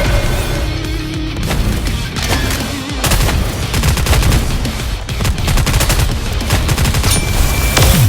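Dense, continuous gunfire from Goddess of Victory: Nikke, loud rapid machine-gun bursts overlapping with heavier booming shots and no pauses.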